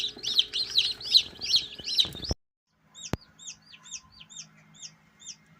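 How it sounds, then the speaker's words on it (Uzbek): Newly hatching chicks in an incubator peeping in a rapid run of shrill high chirps, then after a brief silence and a click a fainter, steady series of repeated peeps. "shu mashina inkubatoringiz ochyapti, jo'jalar chiqishni boshlayapti"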